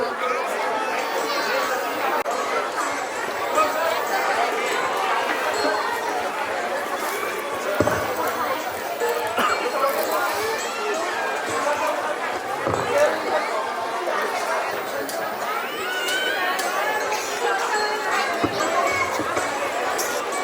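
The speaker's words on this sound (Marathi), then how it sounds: "किती गर्दी आहे ग इथे." Crowded waiting area full of candidates, steady dense babble of many people chattering at once, continuous and fairly loud with occasional brief laughs and thumps.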